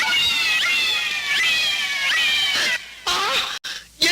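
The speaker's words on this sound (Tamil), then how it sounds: "என்ன நான் குடிக்க வேண்டிய பால பூனை குடிச்சுக்கிட்டு இருக்கு?" A cat meows loudly and repeatedly while drinking milk, giving a rising, drawn-out cry at intervals, close by and with no talk over it.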